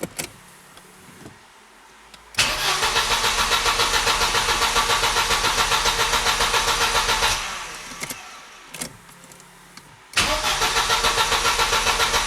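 A car engine cranks briefly, then catches and runs loudly with a steady rough roar, cuts out for a moment, and is started again to run strongly, with no talk.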